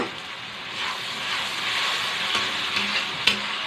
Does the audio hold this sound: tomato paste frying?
yes